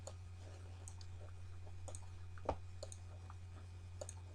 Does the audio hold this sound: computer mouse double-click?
yes